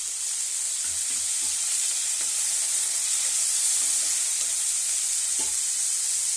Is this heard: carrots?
yes